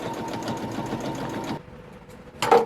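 A sewing machine stitches fabric for a flight suit with a fast, even mechanical whir. It stops abruptly partway through, then starts again in a brief louder burst.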